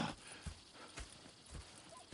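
Horse hooves in Red Dead Redemption 2 clip-clopping at a walking pace, a few uneven thuds close by over low game ambience.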